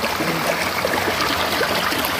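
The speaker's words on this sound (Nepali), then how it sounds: "यो पानी है" Steady rushing and trickling of flowing water at a mini hydropower construction site, continuous and fairly loud throughout with no voices.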